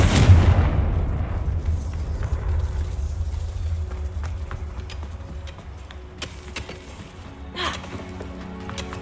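A Confringo spell is cast in a Harry Potter game, opening with a heavy blast-like burst and followed by a low rumbling tail with scattered sharp clicks and crackles.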